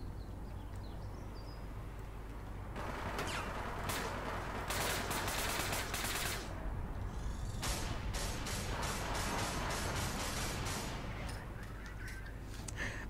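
Bursts of ATAC Watchman rifle fire in the APB Reloaded shooter, crackling in rapid volleys with short pauses, loud and close over a steady low game ambience, shot while the player moves.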